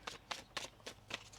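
A deck of tarot cards is shuffled by hand, giving five soft riffling bursts at a regular pace, quiet and close, with no talking.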